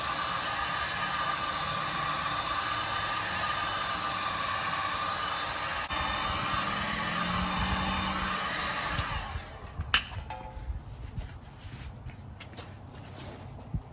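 A heat gun blows steadily against the fender of a 1968 Ford Thunderbird, a constant airy roar that stops after several seconds, followed by light handling clicks and shuffling in a quieter room.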